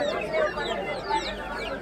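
Chickens cluck and squawk at a pet market, a busy overlapping chorus of fowl calls at close range over crowd murmur, with faint voices mixed into the steady noise.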